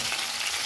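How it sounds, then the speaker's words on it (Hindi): Potatoes frying in a pan with pumpkin sabzi ingredients, stirred steadily, giving a continuous close sizzle with soft scraping through the short stretch, no talk. "आलू को 1 से 2 मिनट तक इसी तरीके से चला लेना है।"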